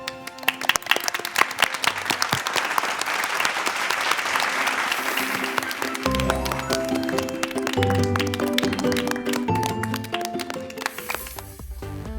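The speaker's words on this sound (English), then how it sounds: "Let's give them a round of applause." A studio audience at a children's quiz show applauds the winning elementary school team, with dense sustained clapping that fills the room, while upbeat music swells in partway through.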